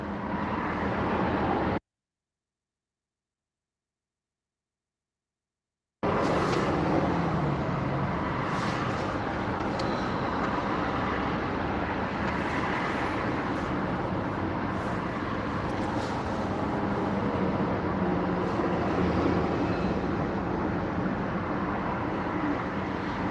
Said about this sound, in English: these sounds of the streets